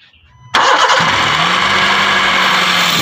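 A 2015 Honda City engine with a loose coil connection cranks and catches abruptly, then settles into a loud, steady idle close by.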